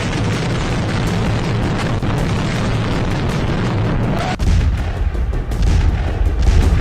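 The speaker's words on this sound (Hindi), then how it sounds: "आज भी यूक्रेन के मिलिट्री ठिकाने पर रूस ने मिसाइल से अटैक किया। धमाका कितना जोरदार था" Blast and rumble from a Russian missile strike on a Ukrainian military site: loud, continuous low-frequency roaring turbulence throughout, with a sharp shift to a heavier boom-like burst partway through.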